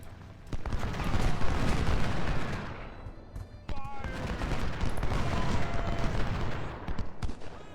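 Dense musket and artillery fire crackles nonstop in a Civil War battle in Ultimate General: Civil War, with loud volleys rolling together, a brief lull near the middle, then a renewed barrage.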